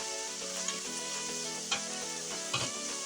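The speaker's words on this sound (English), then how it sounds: "So what I'm going to do is just kind of stir up these onions and this garlic together." Onions and garlic sizzle steadily in a pot for Texas-style chili while a utensil stirs them, with a few sharp scrapes and clacks against the pot over the constant frying hiss.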